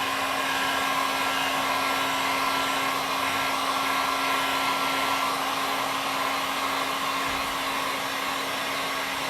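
A heat gun blowing hot air onto headlight glue on a 2004 Yamaha R1 produces a steady, close, loud whooshing hum with a constant motor whine and no break throughout.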